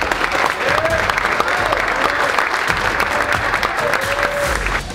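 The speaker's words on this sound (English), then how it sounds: "We're going to give one more round of applause before we break up" A room full of football players and staff applauds the punt return team, a steady, dense clapping that fills the whole stretch with a few faint voices mixed in.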